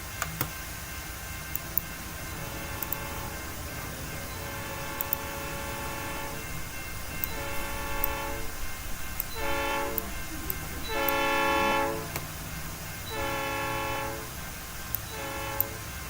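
A train moves through a video game with a steady rolling rumble and faint clicks, while a run of repeated horn-like tones rises and falls in the middle section. No one speaks.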